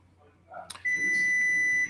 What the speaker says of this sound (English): There's a lot of beeping happening.